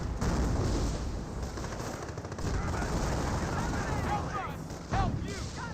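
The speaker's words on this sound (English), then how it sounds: "M10's firing away." Gunfire from M10 tank destroyers and infantry rifles in a Company of Heroes battle against Panthers, a dense, continuous clatter of shots and booms with a louder blast near the end, mixed with voices.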